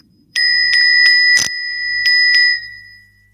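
A hand bell rings loudly five times in an uneven rhythm, clear bright tones with a ringing tail, plus one sharper clang in the middle; no talking.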